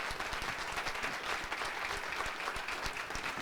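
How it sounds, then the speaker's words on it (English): Applause from the audience at a university State of the University address, a dense steady patter of many hands clapping throughout, moderately loud and alone with no talk over it. "Let's give her a round of applause"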